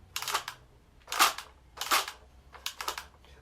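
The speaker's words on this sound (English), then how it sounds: "You can hear it clicking." Spin-it dial on a 2013 redesign Bop It XT handheld electronic game, turned in four separate bursts of crisp plastic ratcheting clicks, close and fairly quiet, each burst about half a second long with short pauses between.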